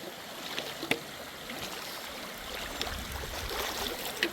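Creek water runs at the Indian Creek crossing on the Ozark Trail, a soft, steady trickle and gurgle at low volume with a few faint clicks and no voices.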